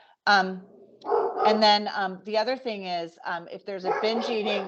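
A dog barks in the background during an eating disorder panel discussion, the short barks half-buried under a person speaking steadily throughout.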